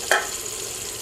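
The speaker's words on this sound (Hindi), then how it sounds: "इन मिसालों को थोड़ी देर के लिए भून लेना है" Ground spices and cumin roast in a pan with a brief burst of frying and a steady hiss, close and short.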